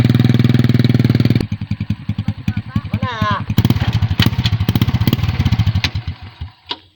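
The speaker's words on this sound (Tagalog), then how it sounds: "Nagsakay na naman ka sa motor?" A motorcycle engine runs close by, a steady rumbling idle with brief throttle swells, while people talk over it throughout.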